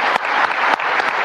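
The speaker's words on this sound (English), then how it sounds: "Let's have a great round of applause for this wonderful panel." Audience applause for a conference panel on the future of money, a dense steady wash of clapping hands filling the room, loud and sustained with no voices over it.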